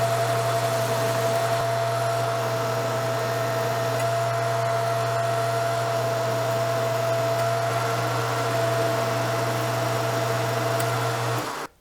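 A metal lathe in a workshop runs steadily while a carbide cutting tool takes a few cuts, giving a continuous motor hum with a constant tone and a faint cutting hiss throughout, stopping abruptly at the end.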